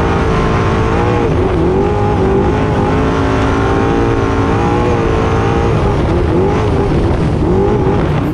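A two-wheel-drive race truck on a dirt course with its engine roaring loud and close throughout, pitch rising and falling as it revs through corners and accelerates out of them.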